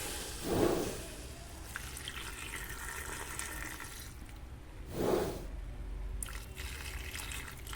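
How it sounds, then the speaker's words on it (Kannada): Hot milk is poured into a pan of sugar syrup for rava laddu in two short, faint splashing pours separated by a few quiet seconds. "ನಾನು ಬಿಸಿ ಹಾಲು ಹಾಕ್ತಾಯಿದ್ದೀನಿ"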